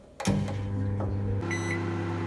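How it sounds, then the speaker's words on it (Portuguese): A microwave oven set to 900 watts for one minute starts up after a click, then hums steadily with a constant motor drone and faint high whine, heating couscous in a home kitchen, with no talking. "agora eu vou colocar no micro-ondas"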